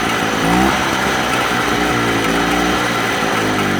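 A Motobecane AV65 moped engine runs steadily at close range, a loud, continuous buzzing two-stroke drone with a slight rise in revs early on, with no voices over it.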